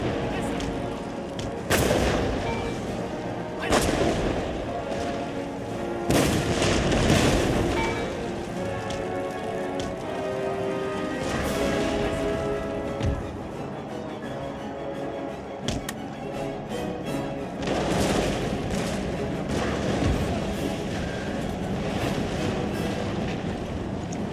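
Artillery in the Total War Empire video game thunders in repeated heavy booms, with loud blasts every few seconds over a constant rumbling battlefield din.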